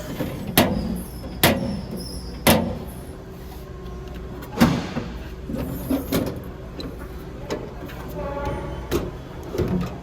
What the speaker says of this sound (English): The drawers are not soft close, but but they do stop pretty decently.